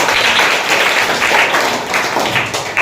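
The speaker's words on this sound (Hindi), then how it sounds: "एक बार अंशु के लिए ताली बजा दो" A classroom of students claps for a classmate, a loud, dense burst of many hands close by that keeps going evenly throughout.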